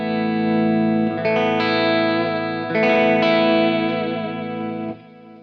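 An electric guitar runs through an Origin Effects Revival Drive pedal while its volume knob is rolled up slowly. Sustained chords swell from nearly clean into a fuller, gritty drive, then stop abruptly.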